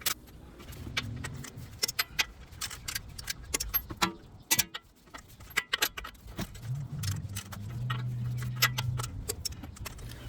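Sharp metallic clicks and ratcheting taps come from a torque wrench tightening 17mm ball joint nuts and bolt on a Toyota Highlander, in irregular bursts up close with a low hum beneath.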